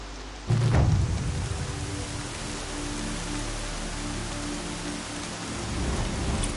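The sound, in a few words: rain in video game Horizon Zero Dawn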